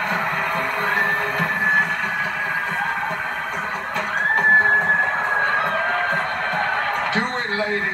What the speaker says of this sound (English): Clapping, cheering, whistling, stomping, whatever it is you do.